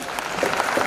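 An audience at a comedy show claps in a short burst of dense applause, steady and fairly loud, with no talk over it.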